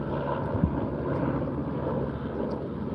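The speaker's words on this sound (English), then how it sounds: "Helicopter, the local hospital here" Hospital helicopter flying overhead, a steady low rotor and engine drone holding at a constant distance with no other sound over it.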